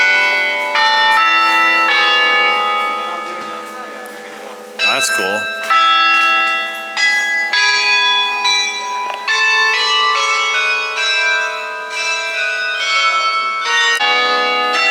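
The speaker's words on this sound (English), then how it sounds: "Church bells going off." Church bells at St. John's Parish house ring out in overlapping, sustained peals that hang in the air, loud and close, while a person briefly speaks partway through.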